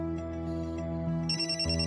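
A telephone plays a tonal ringtone melody, moderately loud and steady for about two seconds, with no talking.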